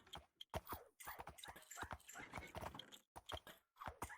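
Horses in a Minecraft world give off short clip-clop hoof sounds and a faint dog-like whimper, arriving in scattered bursts separated by brief pauses.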